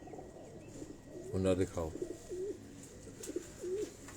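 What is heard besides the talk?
pigeons cooing on a rooftop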